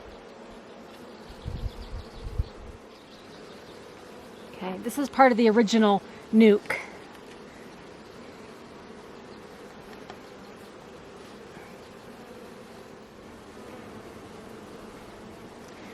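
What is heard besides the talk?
honey bees buzzing at hive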